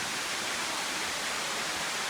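Steady, even rush of a waterfall at Minnamurra Rainforest, heard from a viewing platform as a constant broadband hiss with no breaks or voices.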